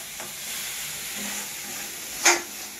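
Vegetables for banana-flower curry fry in a pan with spices, giving a continuous sizzle and one sharper stirring scrape near the end, heard alone with no talk.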